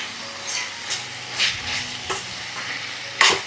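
A spoon scrapes and stirs a tomato mixture with coriander leaves in a frying pan over a soft sizzle, several distinct scraping strokes with a sharper one near the end, no speech.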